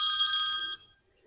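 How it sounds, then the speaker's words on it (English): A telephone rings once, loud and close, in a short bright electronic trill that cuts off and leaves near silence. "Well, the phone's ringing."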